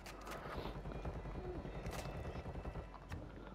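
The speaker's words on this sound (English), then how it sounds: "the helicopter is pretty obvious" A helicopter in Call of Duty thrums as a steady low rotor chop, with scattered gunfire bursts and other battle noise layered over it throughout.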